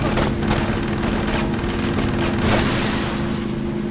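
Gunfire in the Saints Row video game, heard as a dense, steady barrage of shots over a loud continuous backdrop with a low hum, with no clear breaks across the stretch.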